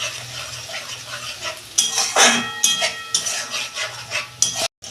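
Tomato paste sautéed in a pan for chana masala, with spoon scrapes and clinks against the metal and a soft sizzle underneath, growing busier partway through with a brief drop near the end.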